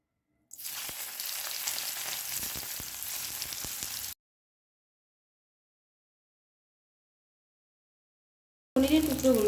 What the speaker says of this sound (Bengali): এবার পনিরগুলো হালকা লাল লাল করে ভেজে নেব